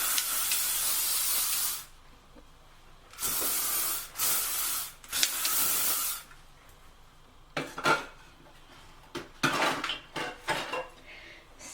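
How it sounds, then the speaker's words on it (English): Hairspray sprayed onto curled hair comes as several bursts of sharp aerosol hiss, two long sprays followed by a cluster of shorter quick puffs, close and loud with quiet gaps between. "then we take our hairspray again"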